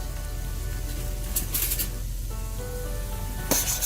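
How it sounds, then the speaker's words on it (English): Onions sauté in a pan for a spicy pork and beef meatball curry, a steady close sizzle with a few brief scraping stirs and a sharp clink near the end. "while we continue to saute our onions"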